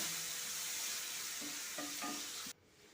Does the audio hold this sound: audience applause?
no